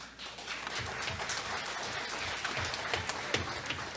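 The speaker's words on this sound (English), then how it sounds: "One more big applause for this." A room full of people applauds a school fiddle group's performance, moderately loud, with scattered distinct claps standing out in the steady patter.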